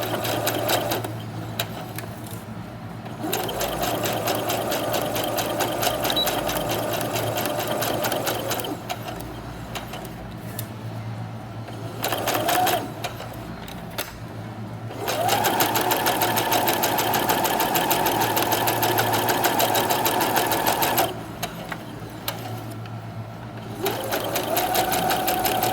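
A sewing machine stitches along the edge of interfacing, running in several steady bursts of whirring separated by short pauses, close and clear with no talk.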